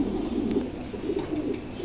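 A pair of Mundi pigeons coo continuously, a low, rolling, close-up murmur that barely pauses across the short stretch, with no voices over it.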